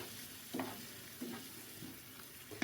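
Sesame semolina halva being stirred in a pan on a stove, a low sizzle with a few soft, evenly spaced scraping strokes, quiet and close, with no talking.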